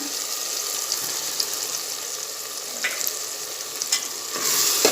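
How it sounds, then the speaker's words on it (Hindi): Mutton dal with tomatoes cooks in a pan with a loud, continuous frying sizzle and occasional stirring scrapes, close and with no voices. "अभी टमाटर गलने तक मैं इसे पकाऊंगी।"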